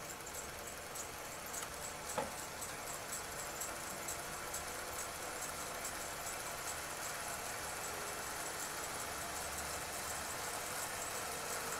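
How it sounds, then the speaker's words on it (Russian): An electric motor spins a wire coil frame in a physics demonstration measuring Earth's magnetic field, giving a steady, even whirring hum with faint rattling vibration throughout and one brief click near the start. "Запускаю мотор и даю рамке разогнаться."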